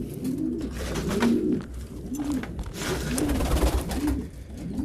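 Meat pigeons in a loft give repeated deep, rolling coos at a steady rhythm, close and clear, about five phrases in under five seconds with faint rustling behind them.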